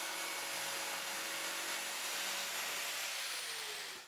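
A steady, harsh buzzing jigsaw with a reverse-tooth blade runs continuously close by, grinding through a wooden floorboard without pause before cutting off at the end.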